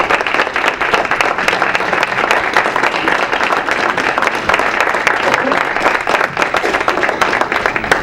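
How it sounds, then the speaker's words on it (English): Audience applause at a school board meeting, a dense, sustained wash of many hands clapping at steady loudness throughout. "these three deserve a round of applause because they did it"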